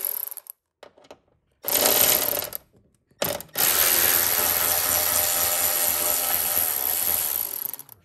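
A ratchet spins off bolts from a DCT access plate on a C8 Corvette, with short bursts at the start and then a long continuous rapid clicking run, close and loud.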